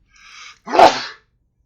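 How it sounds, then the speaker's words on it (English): A single sudden sneeze, close and loud, preceded by a brief sharp intake of breath, then silence. "I had 0 warning on that sneeze"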